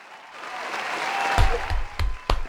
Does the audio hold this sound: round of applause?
yes